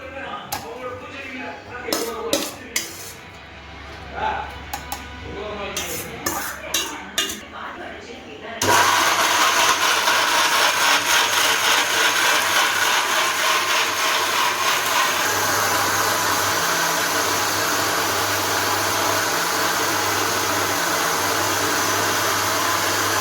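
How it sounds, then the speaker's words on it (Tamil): A mixer grinder whirs loudly and steadily as it blends chana dal chutney. The grinding starts abruptly after a stretch of speech and kitchen handling, then runs as a continuous, noisy drone. "இப்போ மிக்சியில் போட்டு நல்லா அடித்து எடுத்துக்கலாம்."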